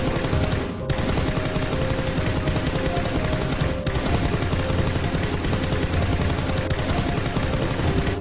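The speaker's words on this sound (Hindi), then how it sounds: "और फिर शेल्टर में मौजूद सारे लोग बंदूकें उठाकर ज़ॉम्बीज़ को मारने लगते हैं।" Shelter survivors in a zombie story fire guns at zombies in loud, rapid, nearly continuous bursts of automatic gunfire with no pauses, close and dense, with no speech.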